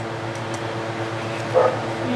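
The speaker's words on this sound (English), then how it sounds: "It's my neighbor's dog over there. It never shuts up." A neighbor's dog barks once at a distance, a brief faint yap rising over a steady mechanical hum, with no talking.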